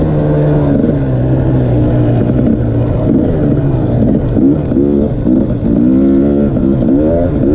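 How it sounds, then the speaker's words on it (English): A 2020 KTM 300 XC dirt bike's engine idles low and loud right up close, a steady burbling putter with small wavering changes in pitch throughout. "every time I ride one of these, it amazes me how low they idle"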